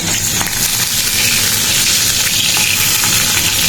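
Onion, garlic, cumin seeds and dried chilies frying in oil for a dal tempering, a loud, dense, continuous sizzle with light stirring, close up and without speech.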